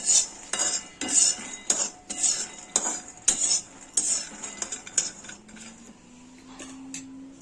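Peanuts dry-roasting in a pan for sesame laddoos, stirred with a metal spoon that scrapes and clinks against the pan in a steady rhythm of close, sharp taps, easing off toward the end.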